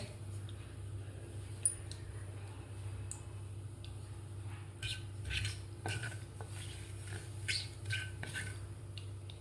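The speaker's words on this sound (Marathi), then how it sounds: "मोहरी व्यवस्थित आपल्याला तडतडू द्यायची आहे." Mustard seeds crackle and pop sparsely in hot oil, faint irregular snaps over a low steady hum.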